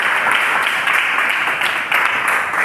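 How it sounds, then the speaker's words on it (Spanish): A church audience gives a loud, dense round of applause in a welcoming moment, sustained clapping at full volume from start to finish. "Démosle un aplauso de bienvenida al Espíritu Santo."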